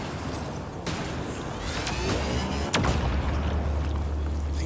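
Turrets firing in Mass Effect Andromeda produce a few distinct booming shots, sharpest near the middle, over a continuous rumbling game ambience.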